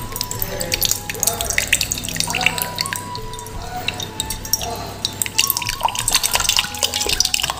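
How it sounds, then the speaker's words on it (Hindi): Water gushing and dripping out of a container through a widened hole in a Rajasthan village, a steady splashing trickle with scattered drips running throughout, fairly close. "ये एकदम से निकला सारा पानी,"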